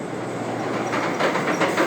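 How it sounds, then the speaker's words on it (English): A loud, close roller coaster train at Dorney Park rumbles past with rattling wheels and a rushing roar, no voices. "It is so cool to see a train come up towards you."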